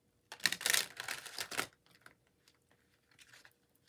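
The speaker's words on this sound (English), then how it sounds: "Just gonna shuffle one more time and then just pull." A deck of tarot cards is shuffled up close: a quick burst of riffling, crisp card flutter lasting over a second, followed by a few softer taps and slides in an otherwise quiet room.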